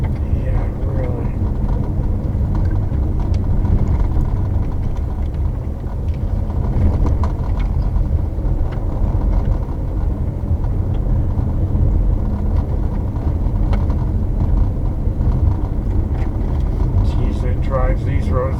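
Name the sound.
all-wheel-drive car driving on country roads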